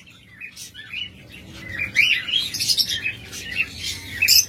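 Cockatiels and lovebirds chirping and squawking in a steady, busy chorus of bright calls against a low background rumble, with no talking.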